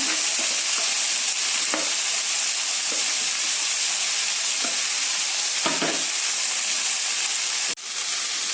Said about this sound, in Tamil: இப்ப எண்ணெய் சூடாயிருச்சு. இதுல நம்ம கழுவி வச்ச மல்லி புதினாவை இதுல ஆட் பண்ணிடலாம்.